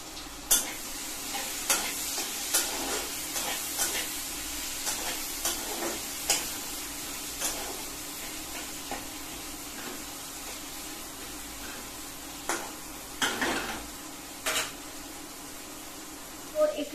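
Tomatoes with a little salt frying in a pan give a steady close sizzle, broken by repeated sharp scrapes and taps as a spatula stirs them at an uneven rhythm.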